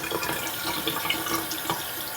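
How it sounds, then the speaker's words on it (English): Tap water runs steadily into a sink to wet oil-paint brushes before cleaning, a close, continuous splashing rush with no talking. "I usually get them wet a little bit with some water"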